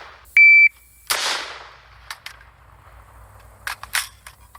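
A 3D printed AR-15 rifle loaded from an aluminum magazine fires a few sharp, loud shots outdoors, set apart by short gaps, with a brief electronic beep near the start.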